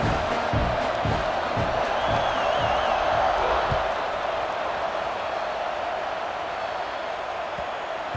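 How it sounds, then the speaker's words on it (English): A large stadium crowd at a Michigan vs Wisconsin football game roars and cheers continuously, a dense, loud wash of voices with scattered whoops rising above it. "these fans, they get something to cheer about with that first offensive possession"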